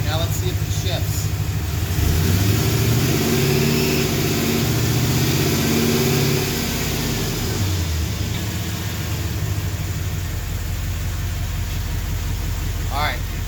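A car with a swapped-in 4L80e automatic transmission accelerates under load, its engine drone rising in pitch then dropping as it shifts, a loud continuous rumble throughout.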